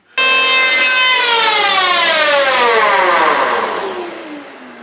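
A Hitachi P20SF electric planer's motor whines loudly after a pass over pine, its tone gliding steadily downward as the cutter head spins down and fades, with no talking.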